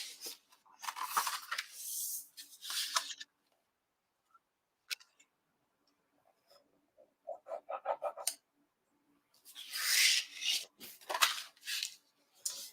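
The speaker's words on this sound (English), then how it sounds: "Now we can burnish all of our pieces." Burnishing pieces of a handmade desk organizer produces repeated close rubbing and scraping strokes in short bursts, separated by quiet pauses, with a final stretch of louder, harsher friction.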